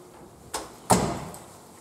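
A washroom door in a Japanese rental apartment opens with a light click followed by a louder thump-like swing, brief and close in a quiet room.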